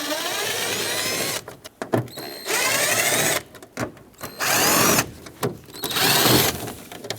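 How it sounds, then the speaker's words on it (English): A power driver fitted with a 1/4-inch socket backing out the screws holding an interior panel on a Ford E-350 van, four whirring bursts of about a second each with rattling pauses and handling noise between them, close and loud. "So let's take a 1/4-inch socket and remove the 4 screws that hold this panel on."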